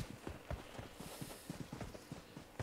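Footsteps thud through a house in a video game, a quick irregular run of soft, close steps heard alone.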